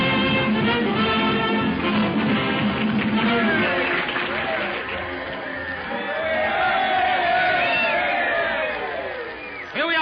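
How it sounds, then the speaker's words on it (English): A football crowd cheers and whoops as a radio-show sound effect, a loud, busy swell of many voices that rises and falls and stays mixed with talking throughout. "Listen to their cheering section."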